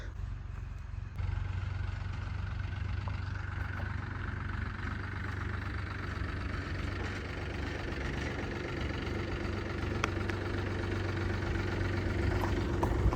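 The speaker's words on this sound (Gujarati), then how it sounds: "આજે પિકઅપને ભાઈ ટ્રેક્ટર લાવી રહ્યો છે" A steady tractor engine idles and runs at a constant low chug, a moderately distant mechanical drone with no talking.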